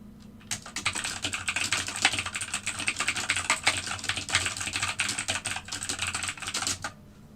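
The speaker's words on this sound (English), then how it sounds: "The fury in that typing is great" Fast, furious typing on a loud computer keyboard, a dense close-up clatter of keystrokes that runs continuously for several seconds without speech.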